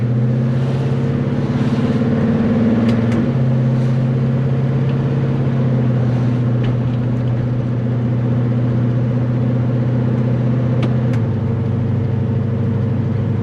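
A 1970 Chevelle SS engine rumbles steadily while cruising around town, a deep continuous drone with a slight shift in pitch partway through and faint clicks above it.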